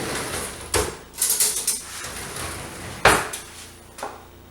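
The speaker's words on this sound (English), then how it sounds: "So I'm going to take all the garlic, get a spoon here." A metal spoon scooping garlic in a pan while preparing moules frites, with a few sharp clinks and scrapes against the cookware and a short run of rattling taps, close and fairly loud, no talk.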